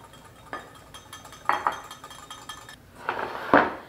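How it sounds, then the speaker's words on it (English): A utensil clinks against a glass bowl while powdered sugar is stirred into freshly squeezed orange juice for a cookie glaze, with scattered taps building to a quicker, louder run of clinks near the end. "you're just going to mix that powdered sugar with your orange juice"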